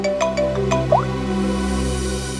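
A short electronic ringtone melody of rising and falling tones plays over a steady low hum, then fades into the background drone.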